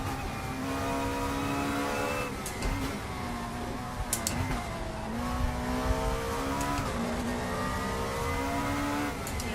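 A race car engine revs hard and steadily in a racing video game set on the old Silverstone short layout circuit, a loud sustained whine with rising and falling pitch sweeps and no talk.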